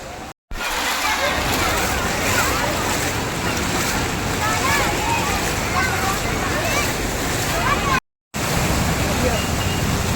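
Monsoon floodwater sloshes and churns as someone wades knee-deep through a waterlogged street in Virar East, Palghar, a continuous loud rush of splashing and wind noise with two brief dropouts.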